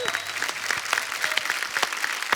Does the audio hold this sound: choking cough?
no